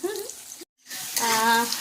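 Fish sizzles and crackles in hot oil close up, cutting out briefly before the frying resumes, growing louder and busier.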